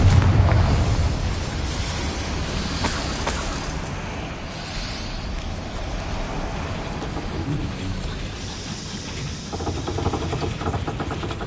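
Confringo fire-spell blast in Hogwarts Legacy, opening with a heavy boom and continuing as a rumbling, crackling wash of game sound that swells again toward the end.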